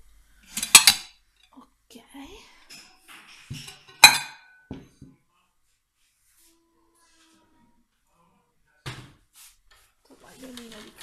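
Plates and cutlery being set on a tablecloth-covered table, a few clinks and rubs of dishes and silverware clustered near the start and middle, then long quiet gaps with faint handling at the end.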